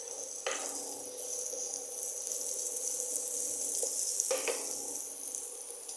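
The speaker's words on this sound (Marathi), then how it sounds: "बारीक चिरलेला लसूण जरा परतून घेऊया" Finely chopped garlic sautéing in hot butter in a pan, a steady close hiss of sizzling broken by two brief stirring scrapes, with no talking.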